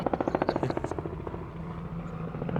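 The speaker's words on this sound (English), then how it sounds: "Hey Tim, which helicopter is that?" Helicopter rotor thumping overhead in a steady rapid beat, loud and close at first, then blurring into a rougher engine drone as it passes.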